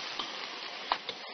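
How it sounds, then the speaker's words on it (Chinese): Cabbage, fried tofu, fried potatoes, fried meatballs, wide starch noodles and tomato slices go into a pot of sauce, a faint soft sizzle broken by a few quiet clicks and taps. "白菜、炸豆腐、炸土豆、炸丸子、宽粉、西红柿片等依次下锅"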